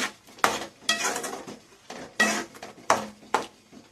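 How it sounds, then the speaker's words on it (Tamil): Mutton gravy stirred in a pot with a spoon after water is added, a run of about seven sharp scraping clanks in an irregular rhythm, close and clear, no talk. "ஆட் பண்ணிவிட்டு நல்லா கிளறி விடுங்க"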